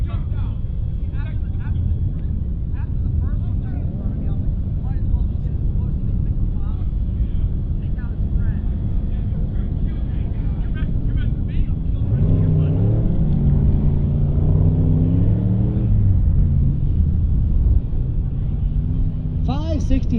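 An E Street prepared Camaro and another drag racing car launch off the line at a drag strip, a loud sustained engine rumble whose pitch sweeps upward partway through, heard under an announcer's continuous commentary.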